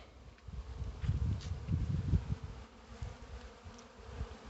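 Honey bees buzzing close at an open hive as they forage nectar from comb, a dense droning hum that swells and fades with passing insects, no talking.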